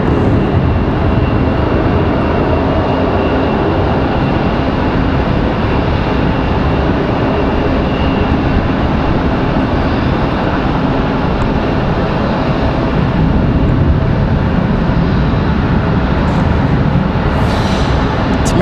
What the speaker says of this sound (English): American A321. I believe this is headed to Charlotte.